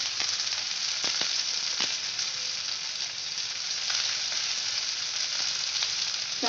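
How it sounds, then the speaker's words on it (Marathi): Onion fries in a pan with a steady, close sizzle and a few faint stirring clicks, with no talking. "पहिले कांदा भाजून घ्यायचा"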